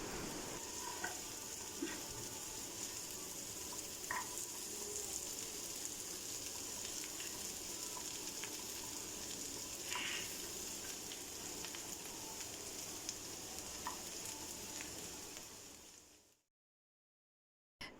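Potatoes frying in a pan over a low flame until golden brown and crisp, a steady close sizzle with occasional small pops and crackles, no talking, ending abruptly in silence.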